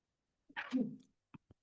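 One quiet sneeze in a hushed room during a legislative meeting, followed by a couple of faint soft clicks.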